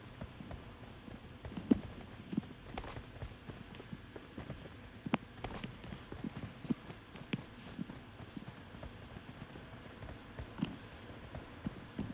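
Footsteps in PUBG Mobile, faint and irregular, tap along in a quiet scene as a run of soft thuds and clicks spread over several seconds, with no speech.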